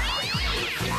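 A short cat meow forms a jingle for the 'Chat va faire mal' segment, a single clear mew heard alone.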